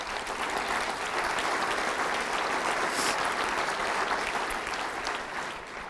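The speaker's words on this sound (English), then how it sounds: "That deserves a clap." A ministry gathering's audience breaks into sustained applause, many hands clapping loudly and evenly throughout, fading slightly at the end.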